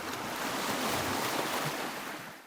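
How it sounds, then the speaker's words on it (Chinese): Ocean surf rolls in a steady, broadband wash of breaking waves with some wind, continuous and fairly loud without voices. "除了添加海浪的环境音效外"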